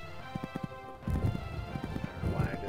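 Horse hooves in Equestrian Showcase on PS1, a quick run of clip-clop footfalls followed by a heavier thudding landing and further hoofbeats, close and fairly loud, with a faint whinny-like sound near the end.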